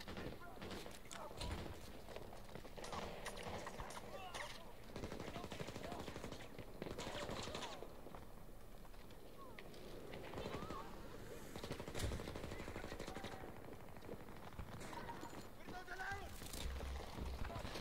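Rapid bursts of machine-gun fire crackle in a Battlefield match, a dense, fairly faint clatter running throughout under and between steady talk from players.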